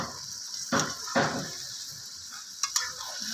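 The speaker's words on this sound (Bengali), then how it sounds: "এবার আমি খুরপির সাহায্যে নেড়ে নিচ্ছি" Chicken pieces stirred with a spatula in a pan without added water: two scraping strokes with a light sizzle underneath, followed by a couple of sharper clinks near the end.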